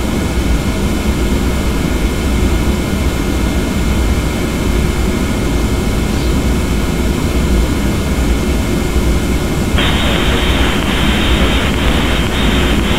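Boeing 717-200 jet engines in a Prepar3D flight simulator during taxi, a steady loud broadband roar with low rumble throughout, joined near the end by a higher whining hiss layered on top.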